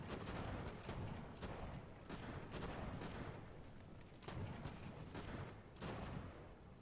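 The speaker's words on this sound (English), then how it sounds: "they're routing us from their volley fire from their supporting elements" Musket volley fire in Ultimate General: American Revolution crackles continuously as a dense, moderately distant battle din, overlapping rolls of gunshots and thumping reports pulsing every second or so, with no voices.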